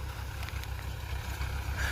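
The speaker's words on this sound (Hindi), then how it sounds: "जब 1200 राउंड के आसपास ट्रैक्टर चल रहा" A Mahindra 475 DI tractor engine idles at about 1200 rpm with a steady low diesel throb, close and continuous over the short span.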